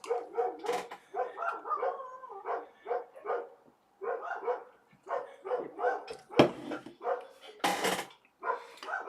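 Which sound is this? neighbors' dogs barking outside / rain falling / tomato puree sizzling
neighbors' dogs barking outside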